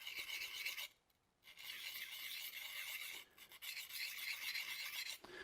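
Steady rasping strokes of a woodturning gouge being honed along its bevel on a 600 grit diamond card, close and quiet, with a couple of brief pauses between passes.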